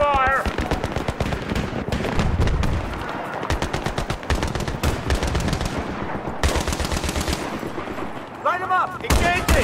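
Battlefield 3 road ambush gunfire: rapid machine-gun bursts and single shots crack in dense sequence, loud and close, with soldiers shouting over the firing.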